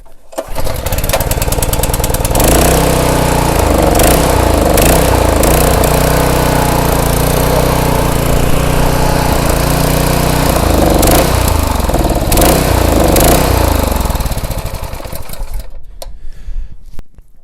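A Honda GX200 small engine at full throttle, roaring loud and close with a steady buzzing drone that wavers slightly in pitch, then cuts out near the end.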